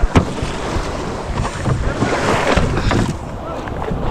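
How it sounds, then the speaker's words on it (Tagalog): Big sea waves strike a small boat, with loud surging water and rushing wind buffeting the microphone close by, rising and falling without pause. "Gawa ng alon. Laki ng alon."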